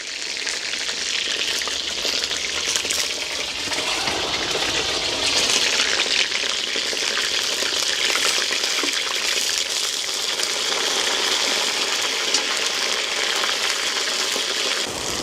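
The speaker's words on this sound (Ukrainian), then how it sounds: "Курочку обжарюємо до такої золотистої скоринки." Chicken pieces frying with onion in a cauldron (kazan), browning toward a golden crust for a creamy-sauce dish; a loud, steady, close sizzle with bubbling oil and occasional stirring runs unbroken throughout, no talking.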